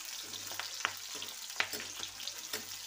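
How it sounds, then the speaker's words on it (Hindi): Paneer fries in mustard oil in a kadhai, a steady close sizzle with a few sharp crackles and stirring scrapes breaking through. "देखिए मैं इसको थोड़ा सा फ्राई कर लूँगी।"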